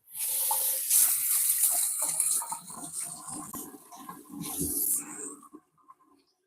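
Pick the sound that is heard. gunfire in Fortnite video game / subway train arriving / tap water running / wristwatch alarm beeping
tap water running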